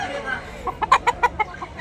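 A hatch grey gamefowl clucks in a rapid series of short, sharp notes close by, over steady background murmur at a cockfighting sale.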